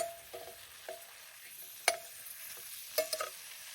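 Chillies fry in a pan with a faint, steady sizzle, broken by a few sharp clicks and stirring scrapes near the middle and end, with no talk.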